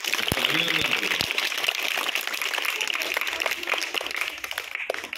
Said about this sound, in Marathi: त्यांच्या नावाने एकदा सर्वांनी जोरात टाळ्या वाजवा